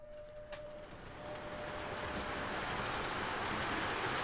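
A GP9 model train locomotive motor runs loudly on a layout, a steady whirring drone that grows stronger and more constant as the engine gets under way.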